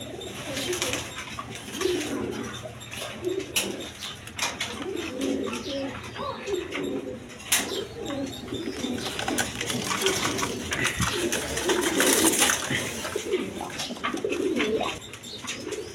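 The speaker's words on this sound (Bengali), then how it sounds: "এখানে এক পেয়ার বিউটি কবুতর আছে, দেখেন কোয়ালিটি সম্পন্ন কবুতর।" Beauty pigeons coo softly in a pigeon market, their low repeated coos running under a light background bustle of faint chirps and clinks.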